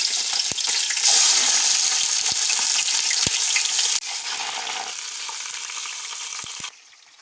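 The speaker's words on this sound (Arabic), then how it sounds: "هسه بعد ما حمى الزيت نخلي الدجاج" Chicken pieces frying in hot oil in a pot, a loud continuous sizzle with scattered pops and crackles that softens partway through and drops lower near the end.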